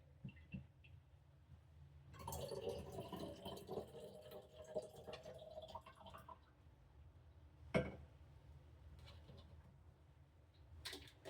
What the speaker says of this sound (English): And then there's a pour spout, so I just pour it.